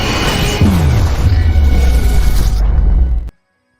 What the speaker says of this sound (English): Here is your doomsday explosion.